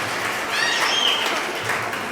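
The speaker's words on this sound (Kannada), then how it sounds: "ಅವಳಿಗೊಂದು ಜೋರಾಗಿ ಚಪ್ಪಾಳೆ ಬರಲಿ." Applause at a preschool annual day celebration greets a young child, an even, moderately loud patter of many hands that holds steady for a couple of seconds with no one speaking over it.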